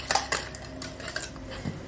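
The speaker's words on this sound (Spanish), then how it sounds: "Vamos a mezclar un poquito aquí el azúcar con los huevos." A utensil clinks and scrapes against a bowl in quick, uneven strokes as eggs and sugar are mixed by hand, close and fairly loud.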